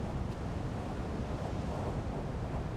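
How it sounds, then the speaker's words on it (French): Strong wind buffets the microphone on an exposed seashore, a steady roaring rush with surf mixed in, loud and continuous with no talking. "Il y a trop de vent."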